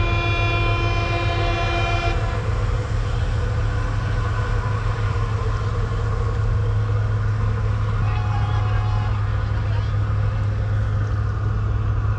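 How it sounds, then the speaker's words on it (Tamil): A deep ship horn sounds in a sustained blast, then briefly again later, over a steady, heavy diesel engine rumble, from a cruise ship crossing on the Nile. "ஷிப் பாருங்க ஹார்ன் அடிக்குது."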